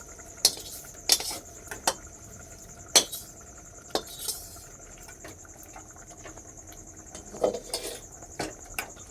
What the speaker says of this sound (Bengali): এই পর্যায়ে আমি মশলাগুলো ঢেলে দেব।